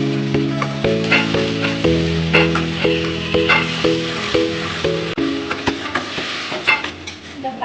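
Prawns fry in a pan with freshly added ground spice paste, their busy sizzle broken by repeated scraping and clinking stirs, while a wavering tonal squeal runs underneath.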